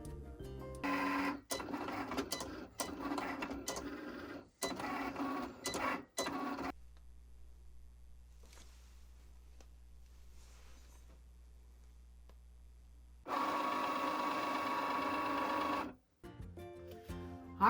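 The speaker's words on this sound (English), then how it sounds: "and print them out." A printer runs out stencil-style lettering fonts in steady mechanical bursts. It whirs loudly for several seconds, falls to near silence, then starts another close, loud pass.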